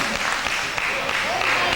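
Crowd clapping at a 2003 IWA Mid South wrestling show, a dense steady wash of applause filling the arena for the full stretch, with faint voices mixed in.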